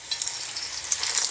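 Fish pieces drop into preheated oil for homemade fast-food fish burgers, setting off a steady, close, bright hiss of frying that fills the short moment without any voices.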